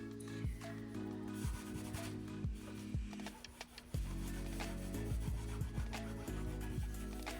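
Cloth or a brush scrubs oil off a dried acrylic pour painting, making close, repeated rubbing strokes in an uneven rhythm, with no talking.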